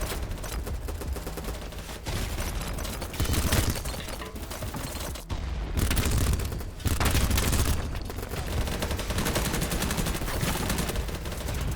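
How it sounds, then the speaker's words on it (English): Rapid SMG fire from a video game shooter crackles almost nonstop in dense bursts, with brief gaps near two and seven seconds, loud and close with no voices. "It's like an assault rifle, but an SMG at the same time."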